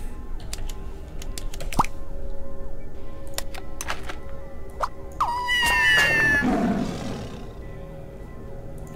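A cartoon cat cries out in the video game Scribblenauts Unlimited, a few tonal meow-like calls among clicks, chimes and other game effects, fairly loud and mixed into a busy soundscape.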